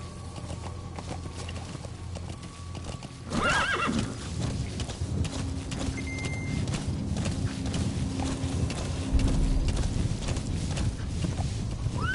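A horse in the video game Metal Gear Solid V neighs once, then hooves clip-clop steadily at a walking pace, close and clear over a faint background hum.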